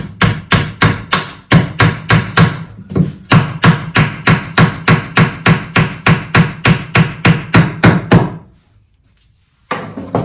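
A glued wooden dowel is tapped into a wooden planter with about twenty evenly spaced, close, sharp knocks in a quick steady rhythm, then a brief pause before one more knock.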